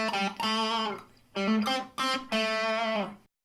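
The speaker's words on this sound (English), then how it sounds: "Now you can hear a little bit of distortion." An amplifier's distorted channel set to slight distortion gives four bursts of sustained, gently gritty notes, each ringing for about half a second to a second and separated by short gaps, heard alone.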